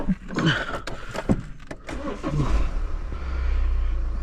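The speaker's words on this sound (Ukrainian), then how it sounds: "Зараз заведемо, подивимося, що машина почала працювати." A BMW X1 E84 engine starts up after some clicks and handling noises nearby, catching into a low, steady idle rumble that continues to the end.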